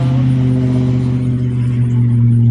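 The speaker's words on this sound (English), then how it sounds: "And comes the truck coming real fast" A truck speeds past with a steady, loud engine drone and strong low hum held for the whole moment, no voices over it.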